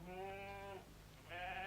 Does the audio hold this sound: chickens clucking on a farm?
no